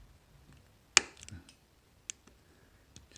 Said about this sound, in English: if you sort of push a bit harder, you hear a click